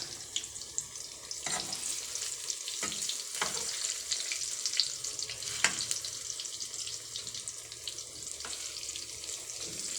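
Saba bananas fry in hot oil with a continuous close sizzle and crackle, broken by sharper pops and spatters over about ten seconds.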